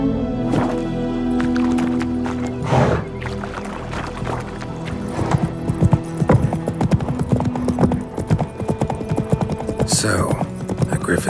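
Geralt's horse Roach in The Witcher 3 sets off with hoofbeats that quicken into a rapid clip-clop gallop. Earlier, heavy movement noises sound, and a brief neigh comes near the end.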